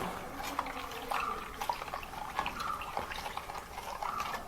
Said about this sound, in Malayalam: ഇനി ഇതിനെ നല്ലതുപോലെ ഒന്ന് ഇളക്കണം